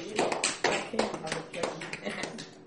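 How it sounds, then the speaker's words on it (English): Congregation clapping hands at a church service, a burst of uneven close claps over a couple of seconds with voices mixed in. "Give him a hand clap."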